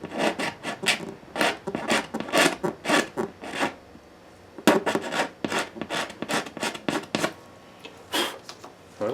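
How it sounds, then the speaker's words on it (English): Close rasping scrapes on a part of a Gibson J-45 acoustic guitar being adjusted for intonation, a series of short rough strokes in uneven bursts with brief pauses between them. "Try scraping that."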